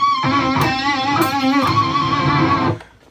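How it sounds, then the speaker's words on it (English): Electric guitar played with pinch harmonics, sustained distorted notes squealing with high wavering overtones and vibrato, loud and close, alone for nearly three seconds before cutting off. "this one on pinch harmonics, or squeals"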